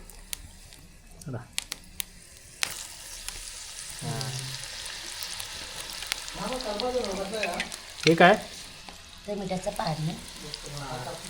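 Slices of jackfruit sizzle and crackle in hot oil in a wok as they are stirred while making jackfruit wafers, with people talking nearby over the frying.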